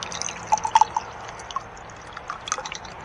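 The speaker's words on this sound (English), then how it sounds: "I'm gonna pour myself a glass of the orange juice into the..." Orange juice is poured into a glass at close range, giving soft splashing and a few light drips and trickles over a quiet background.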